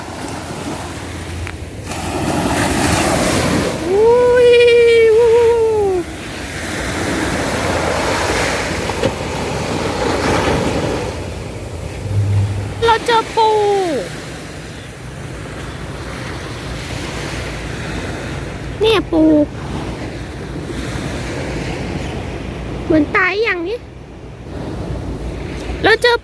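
Steady roar of surf washing on Bang Saphan Noi beach, Prachuap Khiri Khan, in the morning, with strong wind buffeting the microphone, and a voice speaking briefly now and then.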